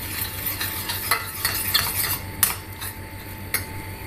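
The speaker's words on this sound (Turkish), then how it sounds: "Salçanın iyi kavrulması önemli." Tomato paste fries in a pan while a utensil stirs and scrapes against it, quick clinks and scrapes over a soft sizzle, close and with no talking.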